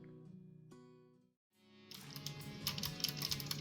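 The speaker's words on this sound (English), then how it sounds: "The satisfying clickety-clack." Mechanical keyboard typing, a faint tonal sound fading to near silence before a brisk run of close, crisp key clicks and clacks builds up and continues to the end.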